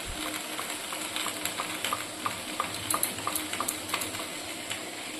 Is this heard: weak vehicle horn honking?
no